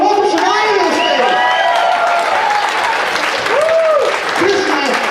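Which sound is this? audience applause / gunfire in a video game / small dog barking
audience applause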